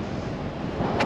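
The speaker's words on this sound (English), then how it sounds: "It's really windy." Strong wind buffets the microphone in a steady, roaring rush while flying a paraglider over a river valley in the Andes, with no voices.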